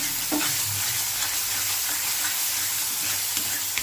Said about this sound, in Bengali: এই মশলাটা ভালোভাবে আগে ভাজা ভাজা করতে হবে, পুরো কালার চেঞ্জ হবে।